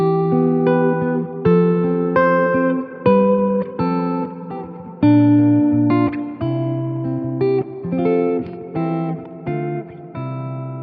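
An electric guitar played through a Fender Tone Master amp with reverb, loud and close, picking a run of ringing notes and chords, each attack trailing into a smooth, fading reverb tail, with no voices.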